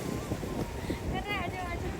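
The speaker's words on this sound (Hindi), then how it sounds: "कन्याकुमारी में तेज़ हवा को महसूस करना भी अपने आप में एक अलग चार्म है।" Strong coastal wind at Kanyakumari on the southern tip of India buffets the microphone in a steady, dense roar, with faint voices mixed in.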